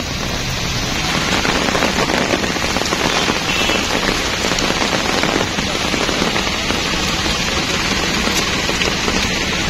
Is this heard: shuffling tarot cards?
no